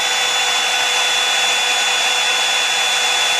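A hair dryer runs loud and close on thick hair, a constant airy roar with a steady high whine, unbroken and alone throughout.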